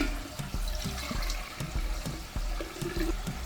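Thick blended watermelon juice pours and splashes into a jar in uneven glugs, with a few soft knocks, close by and no voices.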